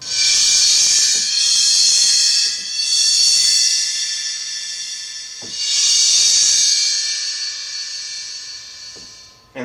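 Metal scraping across cymbals of different sizes, sustained shimmering bright washes in long swells and fades, with a few soft thuds between, fairly loud and without voices.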